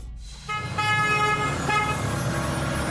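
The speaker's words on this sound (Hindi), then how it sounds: "अरे भगवान भैया की गाड़ी" A car horn toots as a brother's car pulls up in a residential neighbourhood, a sustained bright honk over the low hum of the engine nearby.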